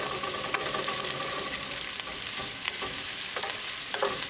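Onions, ginger and green chili sizzle steadily in a hot pan, with a broad frying hiss and occasional scrapes and clicks of stirring throughout; no one speaks.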